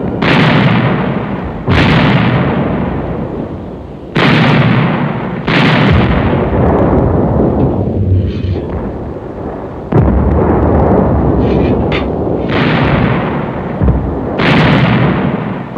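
Heavy booms of German WWII artillery fire against American forward units, a rapid series of loud, close blasts with rumbling tails overlapping one another.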